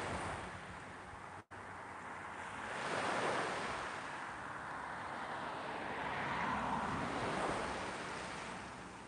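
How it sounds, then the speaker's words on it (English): Ocean waves at Porto Rafti beach near Athens roll in with a soft, continuous wash of surf, swelling and easing slowly, faint and distant with light wind noise and no talk. "Can you hear the ocean?"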